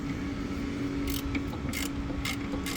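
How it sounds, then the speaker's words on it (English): Ratchet turning a bolt on a car headlight assembly during an HID conversion, with a few short clicking bursts close up over a steady background hum. "I got my ratchet on there"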